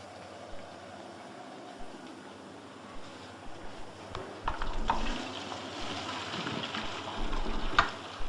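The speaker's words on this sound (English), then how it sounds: "I'm going to drain the spaghetti now." Spaghetti water is poured off into a drain, a splashing, hissing flow that starts quietly with a few clinks and grows louder after a few seconds, with no talking.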